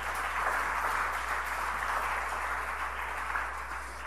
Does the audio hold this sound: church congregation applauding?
yes